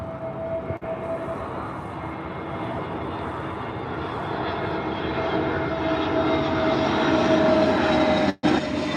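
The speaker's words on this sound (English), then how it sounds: "Let's see if we can get a few more before this plane crosses over." An airplane passes overhead at Tampa airport, a loud, continuous jet roar that holds steady and swells slightly as it crosses, heard alone without talk.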